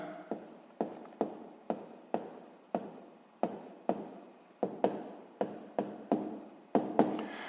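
A pen writes out a sixth-grade maths check by hand on paper, heard as about a dozen short, close scratching strokes in an even rhythm, each one sharp at the start and then fading.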